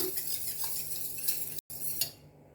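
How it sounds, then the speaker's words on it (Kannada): Curd is whisked with a glass of water to make buttermilk, producing quick clinking and sloshing strokes of a utensil against the vessel close by, with a brief pause before the stirring resumes. "ಈ ಮೊಸರಿಗೆ ಒಂದು ಲೋಟದಷ್ಟು ನೀರನ್ನು ಹಾಕೊತಾ ಇದ್ದೇನೆ ಇದನ್ನ ಚೆನ್ನಾಗಿ ಕಡಿದ್ಬಿಟ್ಟು ಮಜ್ಜಿಗೆ ಮಾಡಿ ರೆಡಿ ಇಟ್ಕೊಳ್ಳೋಣ"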